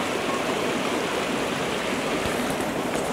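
Creek water near an old bridge at Daylesford in winter flows in a steady, close rushing wash that stays even and continuous throughout, with no voices.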